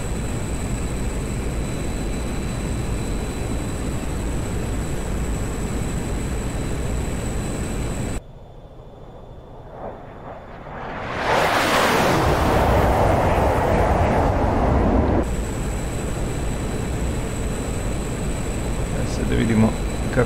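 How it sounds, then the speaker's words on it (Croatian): A MiG-21 jet's engine roars in DCS World as the afterburner lights, with a loud whooshing surge that swells and fades over several seconds between stretches of steady cockpit hum and a voice talking. "Palimo forsaž"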